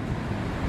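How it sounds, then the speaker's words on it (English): Ocean water surges into an estuary channel at St Lucia, a dense, steady low wash that is fairly faint and heard alone with no voices. "Look at the beautiful ocean water washing into the estuary."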